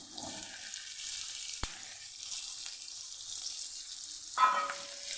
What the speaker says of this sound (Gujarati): ડુંગળીને પણ આપણે સરસ સાતડી લેવાની છે એનો કલર બદલાય ત્યાં સુધી સરસ ટ્રાન્સપરન્ટ